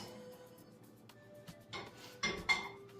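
A cooking pot handled in a home kitchen while making egg foo young, with a few clanking metal knocks and clinks near the end, fairly close and moderately loud after a quieter stretch.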